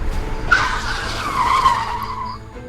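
A car brakes to a skidding stop near a large bridge, its tires squealing in a long, loud screech that fades as the car halts.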